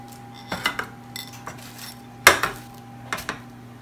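Bottom of a bowl pressing down a crushed biscuit base for a blueberry cheesecake, giving a few scattered clinks and knocks of crockery, with one sharper tap midway.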